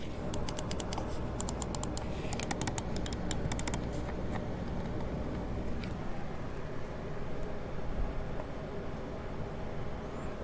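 A Superlight 2 computer mouse clicks faintly, with a scatter of crisp, light clicks in the first few seconds, some in quick clusters, over a soft room hiss. Near the end only the background remains.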